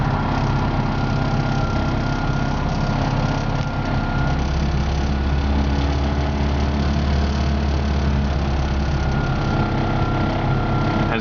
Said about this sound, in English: You can see it idles perfectly fine. Nice and smooth.